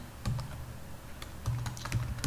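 Someone typing code for a Node.js Swagger project on a computer keyboard, giving quick, uneven clicks and taps up close, some heavier thumps like the spacebar landing among the keystrokes.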